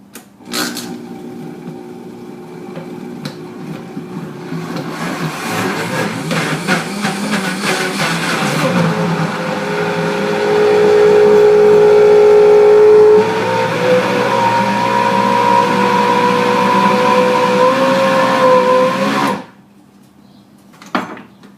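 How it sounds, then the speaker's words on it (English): A blender blends frozen bananas into soft-serve style banana ice cream, a loud, steady whirring motor roar whose pitch shifts as the fruit breaks down. It runs for about eighteen seconds, then cuts off abruptly. No one speaks. "Bananas in blender."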